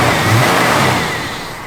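A 1973 AMC Javelin with no big cam revs up close and loud in a brief, rough burst that eases off within two seconds.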